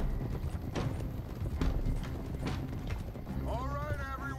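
Horse hooves in Red Dead Redemption II clip-clop steadily at a trot under a game soundscape, and a horse whinnies briefly near the end.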